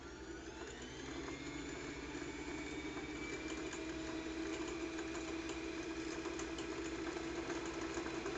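A sewing machine runs steadily and continuously with an even motor whir and a faint rhythmic mechanical hum, close and unbroken throughout, no voices.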